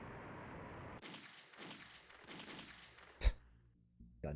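Gunfire in the video game Fallout 2: three muffled, booming bursts spaced about half a second apart, then a sharp crack and a final shot, heard alone over a low background rumble.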